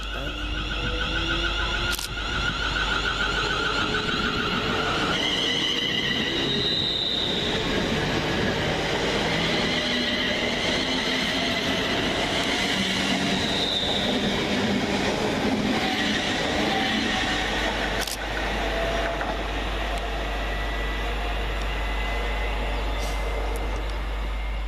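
A London Northwestern Railway electric passenger train departs Leighton Buzzard station, rolling out steadily with continuous rumble, rising motor whine and occasional wheel squeal, loud and close throughout.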